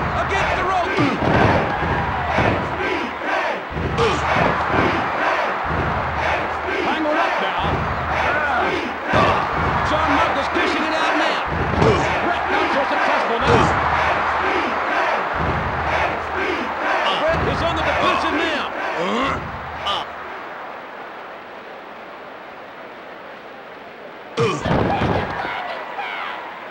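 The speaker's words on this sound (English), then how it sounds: "This crowd is deafening." A roaring arena crowd from the PS1 wrestling game WWF War Zone cheers continuously, with heavy slam thuds recurring every few seconds beneath it. The crowd dies away near the end and one last impact follows.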